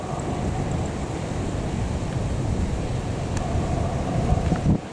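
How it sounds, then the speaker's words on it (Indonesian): Strong, steady wind roaring across an open bridge construction site at height, a continuous broad rush with gusty swells and no talk over it. "angin cukup besar dan ini para pekerja ini bekerja di area ketinggian"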